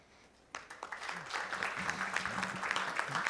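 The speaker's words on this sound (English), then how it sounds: "Let's give a big ClueCon round of applause to Fikri Firat." After a brief quiet moment, a conference audience at ClueCon bursts into applause that swells and continues steadily, with a voice briefly audible underneath.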